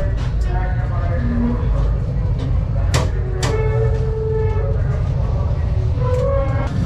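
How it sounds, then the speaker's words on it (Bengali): Steady heavy rumble and clatter of a cargo train passing close by at night, heard from aboard the Cox's Bazar Express, with sharp metallic clanks and squeals scattered through the continuous roar. "আরেকটি ট্রেন যাচ্ছে, এটা হচ্ছে কার্গো ট্রেন দেখা যাচ্ছে।"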